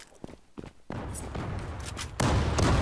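A Galil AR rifle fires in the shooter game Zula, with sharp bursts of gunfire and rattling shots that grow louder and denser, mixed with footsteps and game ambience.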